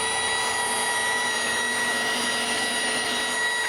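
A rotary polisher working on black car paint over a curved body line, a constant high whirring hum with a smooth, unbroken drone, close up and steady with no voices.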